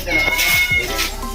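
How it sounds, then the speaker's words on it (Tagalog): A cat on San Miguel Island, Tabaco City, meows loudly and insistently, a few drawn-out, rising calls close by amid background voices. "Grabe, pati yung pusa napakaingay, nakikisabay din."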